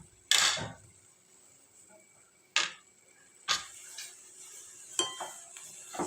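Sweet potato halwa with sugar stirred in a pan, a few separate scrapes and clinks of a spoon against the metal spread out over several seconds, close and fairly quiet with no voices.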